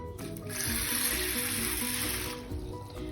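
Water is poured from a cup into a bowl of sago pearls, a continuous rushing splash that swells for about two seconds and then tapers off.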